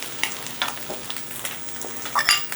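Eggs fry in a Signature cast iron skillet with a steady close sizzle and small crackling pops throughout.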